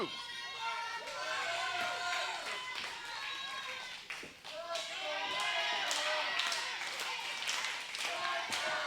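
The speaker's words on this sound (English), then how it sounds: "Hear the crowd chanting, "Let's go, Ember."" Crowd at a professional wrestling show chanting in a rhythmic, repeated pattern with clapping, loud and continuous, with a commentator talking over it.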